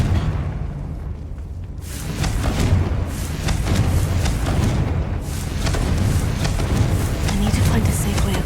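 A Confringo spell blast in Hogwarts Legacy swells into a long, heavy rumbling roar after a quieter start and stays loud and churning throughout, with a voice heard faintly beneath the noise.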